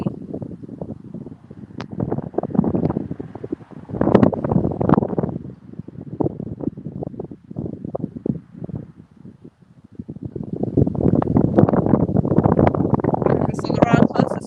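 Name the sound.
strong wind blowing into microphone while fishing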